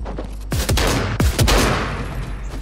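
Shotgun fire in a squad video game match: two loud, close blasts about a second apart, each with a sharp crack and a booming tail, over quieter background gunfire.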